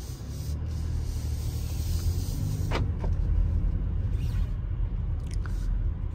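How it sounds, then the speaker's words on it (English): A 2023 BMW X7 xDrive40i SUV on the move, heard as a steady, loud low rumble of engine and road noise with a few faint clicks and light ticks over it, and no talking. "this is how to drive a BMW X7 X-Drive 40i"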